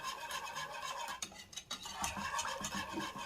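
A spoon stirs a pot of starch, flour, milk, cocoa and sugar, making steady scraping, swishing sounds close by with no talk over it.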